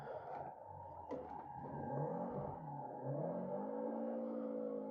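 A car engine in Forza Motorsport 7 revs and slides through corners, its pitch rising and falling in smooth sweeps, fairly faint and continuous with no talk over it.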